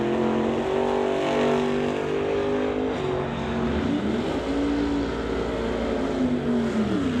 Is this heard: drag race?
yes